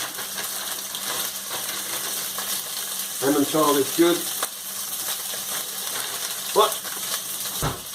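Steady crackling sizzle of sausages frying in a pan, continuous throughout, with a person briefly speaking over it.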